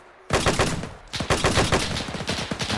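Bursts of Bren light machine gun fire in Arma 3's WWII setting, loud and close: a short rapid string of shots, a brief pause, then a longer run of quick rhythmic rounds.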